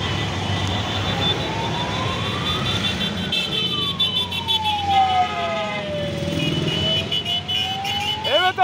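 A police escort vehicle wails its siren in a Republic Day car convoy, a long rising and falling tone sweeping steadily over constant traffic and engine noise, with other horns and siren bursts joining near the end.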